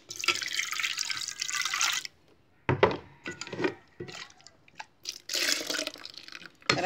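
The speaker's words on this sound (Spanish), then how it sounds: "Ahora le voy a echar el agua tibia." Warm water is poured into dish soap in a kitchen. Splashing bursts of pouring start and stop irregularly with short pauses between them, heard up close and moderately loud.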